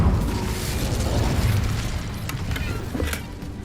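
Casting of the Incendio fire spell in the video game Hogwarts Legacy, heard as a sustained roaring, crackling burst of flame with sharp pops and bangs scattered throughout.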